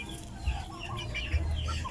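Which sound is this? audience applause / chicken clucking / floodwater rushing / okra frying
chicken clucking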